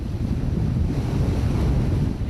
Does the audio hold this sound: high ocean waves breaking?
yes